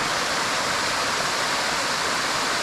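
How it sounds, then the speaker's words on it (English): Waterfall cascade in the forest of Mindo, Ecuador, a steady, dense rushing roar of falling water heard close and loud throughout, with no voices. "we've come to a decent cascade"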